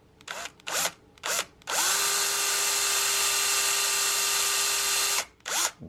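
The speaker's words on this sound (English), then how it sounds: "we use a small electric drill to mark the barrel lugs" An electric drill marking the lugs on a rifle barrel whirs in several short bursts, then runs steadily for about three seconds before stopping, followed by another brief burst; loud and close.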